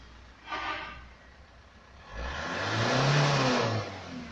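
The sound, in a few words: car engine revved at full throttle then released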